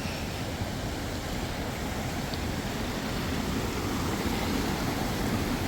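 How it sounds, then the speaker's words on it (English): A small, pretty waterfall feeds a stream flowing toward a loch, heard as a constant, even rush of falling water with no voices over it. "Nice little pretty waterfall with a stream."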